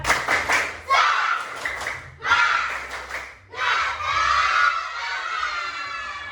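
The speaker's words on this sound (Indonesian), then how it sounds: "tepuk semangat" A group of children does a spirit clap in short bursts of rapid clapping and shouts, three loud rounds separated by brief pauses, mixed with lively voices.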